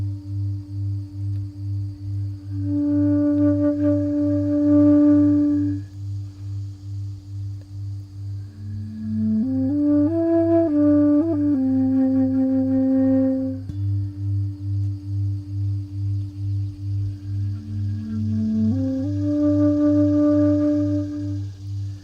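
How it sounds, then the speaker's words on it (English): A shakuhachi flute plays a slow, breathy melody in sustained phrases over a steady pulsing low drone, with pauses between phrases; no voices present. "the shakuhachi, which sounds like this."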